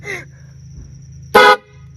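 A short, loud, blaring air horn blast from inside a backpack cuts in over a steady low hum, preceded by a brief voice.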